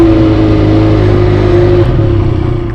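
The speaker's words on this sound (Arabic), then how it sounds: "عايزك تلاحظ معايا صوت تدويره الموتوسيكل اول ما ندوره كده، ولاحظ قوه الموتور معايا." Benelli Leoncino 500 motorcycle engine running loud and close with a deep, steady rumble and strong low harmonics, holding a fairly even pitch before easing off slightly at the end.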